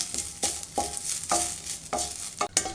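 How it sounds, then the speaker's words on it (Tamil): Curry leaves sauté in a pan while being prepared for homemade idli podi, heard as repeated scraping stirs in a steady rhythm over a light sizzle, close and fairly loud, with no talking. "அந்த கருவேப்பிலையும் சேர்த்து நல்லா வதக்கிக்கலாம்"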